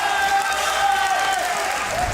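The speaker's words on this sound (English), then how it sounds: "All of his friends are cheering him out." At a European card game world championship qualifier top-eight match, the crowd applauds and cheers in a dense, continuous wash of clapping and voices, with a commentator talking over it.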